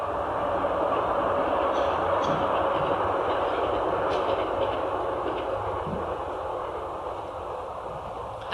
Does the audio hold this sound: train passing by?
yes